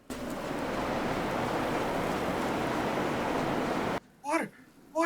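Steady roar of surf breaking on a desert beach, a broad continuous wash for about four seconds before cutting off, followed by a brief burst of speech.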